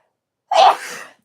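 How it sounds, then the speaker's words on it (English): A single sharp sneeze bursts out close by, a quick explosive onset followed by a short breathy tail, with no talking around it. "excuse me, I got to sneeze for a second here"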